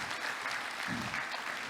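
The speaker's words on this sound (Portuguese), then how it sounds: "Aplaudo o Senhor Jesus pela vida de Moisés" Church congregation applauding, a brief steady burst of many hands clapping at moderate level, with a faint low murmur near the middle.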